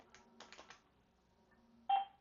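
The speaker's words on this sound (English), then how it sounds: "the page tone sucks. Like, listen to this." Soft clicks and faint tones, then a single short, loud electronic page beep from an Avaya IP Office phone system near the end.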